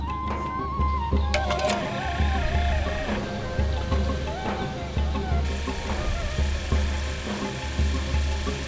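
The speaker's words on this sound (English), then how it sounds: "I grind the corners of the slab first so each side of the point has an even, slightly rounded profile" A water-cooled 6-inch diamond grinding wheel shapes an agate stone slab into an arrowhead preform, giving a steady close motor whir with wavering grinding tones as the stone is pressed and shifted against the wheel.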